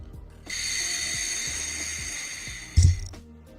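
A steady breathy airy hiss of air blown through a trumpet mouthpiece lasts a couple of seconds, ending with a brief thump.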